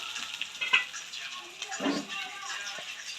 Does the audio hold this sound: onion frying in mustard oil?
yes